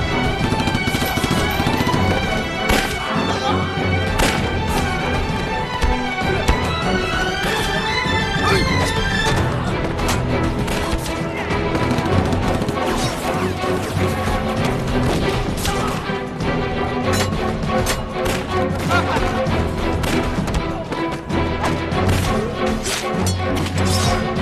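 Dense, continuous machine gun fire from a TV war drama in which Japanese soldiers disguised as bandits ambush a military truck, loud bursts mixed with crashes and shots throughout, with shouted voices under the gunfire.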